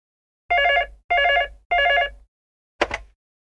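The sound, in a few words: telephone ringing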